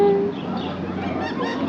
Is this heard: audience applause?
no